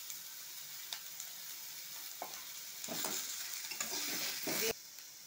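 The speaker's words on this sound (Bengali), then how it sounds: "আমি একটু অল্প তেল দিয়ে এইগুলো সব সবজিগুলো নাড়িয়ে নেব" Mixed vegetables, including capsicum, stir-fry in a little oil with salt and turmeric for a semolina masala pitha. A quiet, steady sizzle runs under a few clinks and scrapes of stirring, with a brief louder burst near the end.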